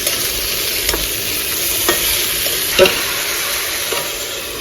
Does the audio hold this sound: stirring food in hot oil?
yes